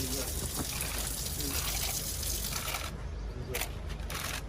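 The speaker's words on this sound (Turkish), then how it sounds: "Artık suyumuz akıyor" Water running steadily along a canal fountain, a continuous close rushing and trickling wash that fills the whole stretch, with faint bubbly splashes near the end and no clear speech.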